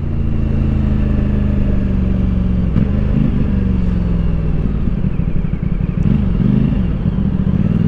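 A CF Moto 450SR motorcycle engine rumbles loud and close, with a couple of rising revs and throttle blips over a steady throaty idle, no talking.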